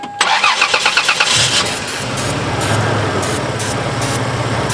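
A Toyota Tacoma engine cranks with a rapid starter chatter, catches, and settles into a steady, loud running rumble close by with no talk over it.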